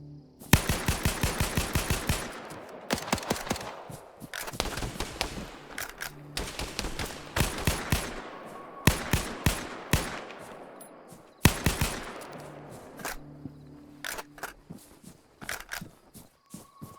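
Rapid automatic gunfire from a gun hip-fired in a post-apocalyptic video game, sharp and loud, coming in repeated long bursts separated by brief gaps, with no talking.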